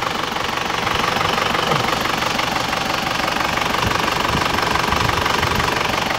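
An Isuzu Panther engine idling with a rough, steady diesel clatter and knock, a constant dense rattle heard up close with no talking.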